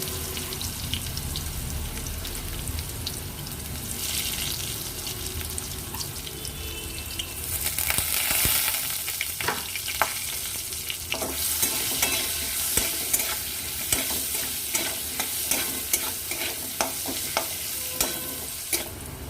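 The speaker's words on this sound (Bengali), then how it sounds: "সামান্য লবণ আর হলুদ দিয়ে আলুগুলো একটু ফ্রাই করে নেব" Potatoes fry in a pan with a continuous crackling sizzle that grows louder partway through, punctuated by frequent spatula clicks and scrapes.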